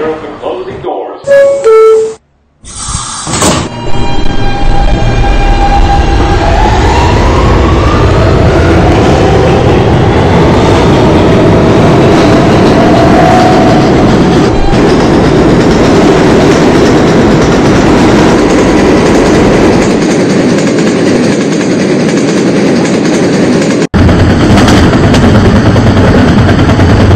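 An R160 F local subway train rumbles loudly along the tracks in New York, its steady roar and rattling wheels filling the car, with a brief chime and door sounds at the start.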